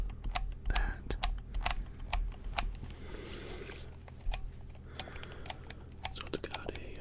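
Canon A1 film camera handled up close, its dial and shutter giving sharp dry clicks at an irregular pace, with a brief burst of mechanical whirring in the middle, all quiet and intimate under a soft murmuring voice.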